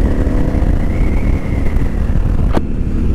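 KTM 990 motorcycle engine pulling steadily under acceleration while riding on gravel and off-road stretches, a continuous close drone with wind buffeting the microphone and a brief whoosh near the end.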